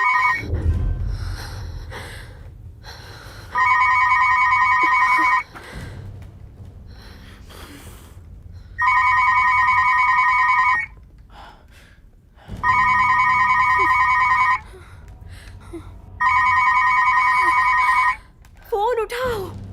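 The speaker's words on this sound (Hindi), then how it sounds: "फोन उठाओ।" A telephone bell rings in four loud electronic bursts of about a second and a half each, spaced by pauses in which people speak, gasp and rustle nearby.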